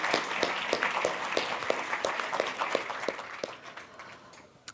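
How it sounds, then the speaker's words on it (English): Audience at a live-coding talk applauding, a dense steady wash of clapping with some sharper individual claps standing out, fading slightly toward the end. "How about a warm round of applause for her?"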